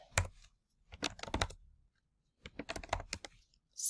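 Typing on a computer keyboard while entering data into a database table, two quick bursts of crisp key clicks separated by a silent pause, close and clear.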